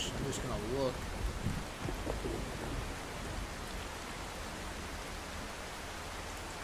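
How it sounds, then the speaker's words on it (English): Steady, dense rain in the storm-chasing game OUTBRK, a continuous loud hiss of downpour with a faint low rumble beneath and a brief murmur of voice early on. "Of course, I'm right in the rain, so that's not helpful."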